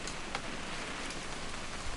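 Steady rain from What Remains of Edith Finch forms a continuous broadband hiss, even and moderately quiet, with no other sounds.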